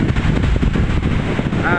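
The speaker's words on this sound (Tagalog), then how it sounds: "napaka sarap na dumadampi ang simoy ng hangin dito sa pangpang ng" Steady wind rushing across the microphone on the shore of Laguna de Bay, a constant low roar with gusty buffeting throughout.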